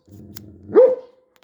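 A dog gives a single sharp bark near the end of a short growling rumble, close and fairly loud, with quiet surroundings otherwise.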